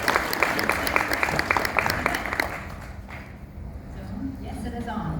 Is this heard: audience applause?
yes